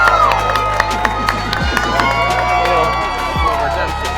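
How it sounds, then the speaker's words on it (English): A crowd claps and cheers for two gentlemen, the applause mixed with shouts and voices over a steady low hum, continuous and fairly loud throughout. "So please give them a big round of applause for both these gentlemen."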